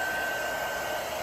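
An overworked embossing heat gun blowing hot air while heating epoxy on a tumbler, a loud steady close-up whoosh with a constant whine through it.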